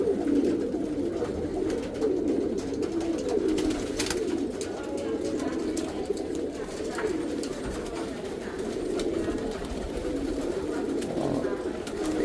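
A flock of pigeons coos steadily, their low, overlapping calls forming a continuous murmur throughout, fairly close.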